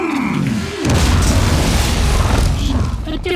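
Explosives detonate in Shadow Tactics: Blades of the Shogun at Sunpu Castle, a loud, deep booming rumble that swells and sustains for a few seconds, with a voice just before it.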